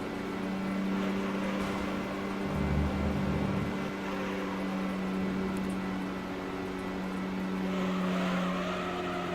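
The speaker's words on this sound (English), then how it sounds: "I actually take that curve full throttle." A race car engine holds full throttle in Gran Turismo 3 during the Sunday Cup, a steady, moderately quiet droning hum that shifts pitch slightly mid-run, with no talking.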